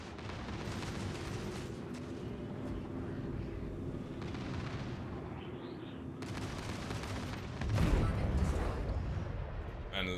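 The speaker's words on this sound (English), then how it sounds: "And listening to the cannons is awesome." Ship cannons firing in the space game Star Citizen, a dense continuous barrage of booming, rumbling shots that swells louder near the end, steady and close with no clear gaps.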